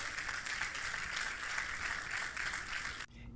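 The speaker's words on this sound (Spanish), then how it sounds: "Denle un aplauso al Señor." Applause from a church congregation during a Spanish-language religious program, a dense, even crackle of many hands clapping at a distance, faint and sustained, cutting off abruptly near the end.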